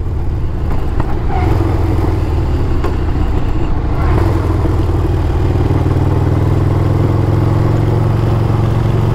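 A Dave Perewitz-built Panhead bobber motorcycle with an S&S 95 engine and hydraulic clutch is ridden, its loud, continuous engine rumble mixed with wind roar, the pitch shifting midway as it changes speed.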